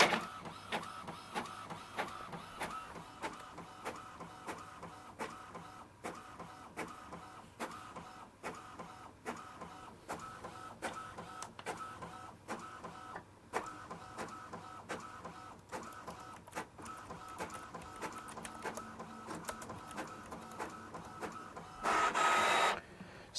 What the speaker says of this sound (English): it does obviously make some noise whilst it's actually scanning and printing